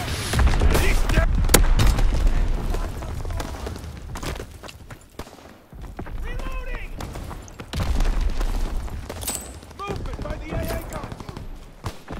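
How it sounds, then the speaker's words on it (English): Heavy booms and rolling gunfire in the World War II shooter Call of Duty: WWII during an online Domination match, loud and close with repeated blasts and bursts, voices shouting over the combat. "Contact! Mortar shot out."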